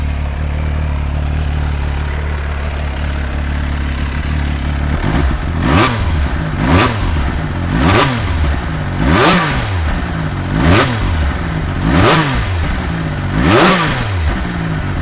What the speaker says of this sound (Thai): ดูเสียงเครื่องซะก่อน เสียงเอกลักษณ์เสียงเอกลักษณ์